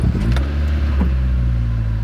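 An older, high-mileage Honda from a northern climate idles in neutral just after starting, a loud, close, steady low engine drone with a brief rev and faint ticking, no voices.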